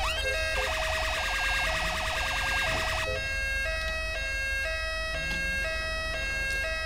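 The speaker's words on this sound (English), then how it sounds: "Clear the way for this ambulance." A wailing ambulance siren in GTA 5 with the LSPDFR police mod, loud and close, cycling through a fast yelp before switching to a steadier pattern over continuous traffic rumble, with no speech.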